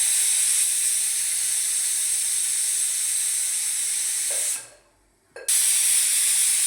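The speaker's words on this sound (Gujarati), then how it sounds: "જો ત્રણ સીટી વાગી ગઈ" Steam shrieks steadily from a pressure cooker whistle on a kitchen stove, a loud continuous hiss that cuts out abruptly for about a second before bursting back at full force.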